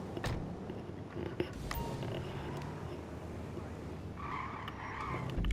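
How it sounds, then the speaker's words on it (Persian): A car pulls away and drives off, with a steady rumble of engine and tire noise, a brief creak early on and some tonal beeping and a rising surge near the end. Faint talk may sit underneath. "خب بچه من برم سوار ماشینم شم برم پیش مغازه سیمیون"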